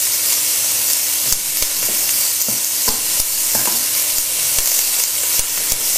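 Roughly chopped onions with a pinch of salt sizzle steadily in a pan while being stirred, with a constant close frying hiss and repeated short scraping knocks of the spoon against the pan.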